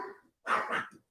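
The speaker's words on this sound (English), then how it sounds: "our apologies for the dog" A dog barks indoors during a home livestream, giving a short bark followed by a louder double bark and a trailing yip, close and clear, with no speech over it.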